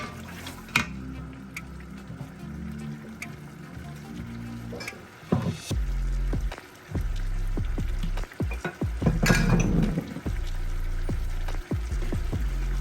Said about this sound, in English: the chicken has been cooking for the past 15 minutes